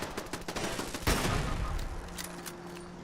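Automated turrets firing in Fallout 76, a steady patter of distant shots with one heavier blast partway through, under a constant hum and faint game ambience.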